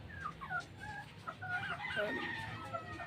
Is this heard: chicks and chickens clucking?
yes